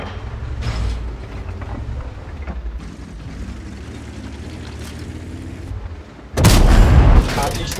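Tank cannon shot in World of Tanks, a sudden loud blast near the end following rumbling engine and battlefield noise, with game voice lines heard earlier.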